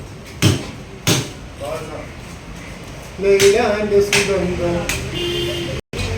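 Several sharp, heavy chopping thuds from a cleaver cutting through a fish tail on a board in a fish shop, spaced irregularly, with people talking in the background.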